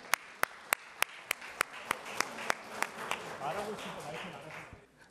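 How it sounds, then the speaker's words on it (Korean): A crowd at a sports policy forum welcomes a speaker with rhythmic unison clapping, evenly spaced sharp beats that fade into a general murmur with voices before tapering off. "여러분, 이종현 대표님을 큰 박수로 환영해 주시면 감사하겠습니다."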